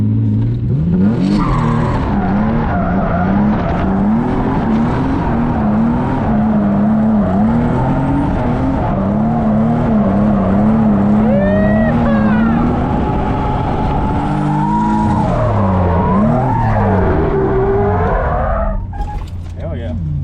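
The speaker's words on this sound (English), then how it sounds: "We're gonna test out the car real quick, do a quick donut" An RC drift car engine whines loudly and steadily, revving and swooping in pitch as it spins donuts, with brief tire scuffs and a person talking over it.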